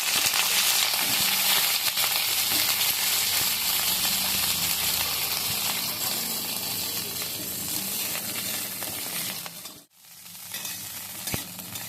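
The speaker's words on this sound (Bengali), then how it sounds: "এবার ফুলকপিগুলো ভেজে নিচ্ছি" Cauliflower pieces fry in hot oil for a vegetarian shukto, giving a loud, continuous sizzle with soft stirring scrapes and a brief dip near the end.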